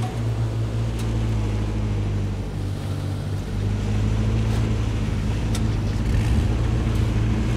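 A car engine in the survival video game H1Z1 runs behind the players with a steady, low droning hum and rumble, continuous and fairly loud, with no talk over it.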